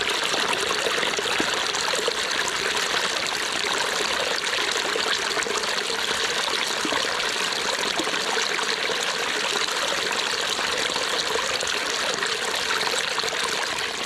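Steady rushing of rainwater runoff after heavy rain, a continuous broadband wash with no breaks, fairly close and even in loudness throughout.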